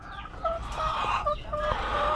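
Chickens cluck in a backyard poultry pen that includes Rhode Island hens and two roosters. Short repeated clucks and calls run through the whole stretch at moderate loudness, with no talking.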